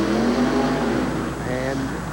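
A monster truck at a 1988 USHRA pulling and monster truck event in Hartford, Connecticut roars as it is revved hard, a loud rising and falling engine drone under an announcer's commentary.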